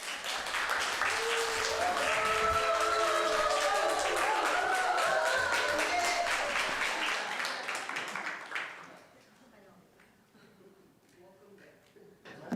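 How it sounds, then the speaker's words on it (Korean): A church congregation applauds at a Sunday service as a pastor steps up to the pulpit. The steady clapping fills the room for about eight seconds, with some music underneath, then fades to quiet. "김봉성 목사님 올라오셔서 말씀을 전하실 때 사랑과 환영의 박수로 맞아주시겠습니다."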